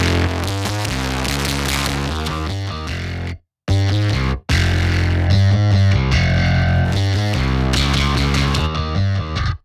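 Music run through a compressor set to a 1-to-1 ratio with its distortion circuit driven hard, loud and saturated with gritty crunch, briefly cutting out to silence twice before resuming.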